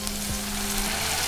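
Water is poured into a hot pan holding a pepper-reddened mixture for a porridge, and it sizzles and hisses loudly and steadily throughout, with a faint low hum underneath and no talking.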